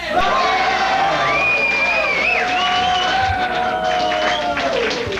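A studio audience at a television talk show cheering loudly and continuously, whoops and shouts over clapping, with a voice rising above the crowd.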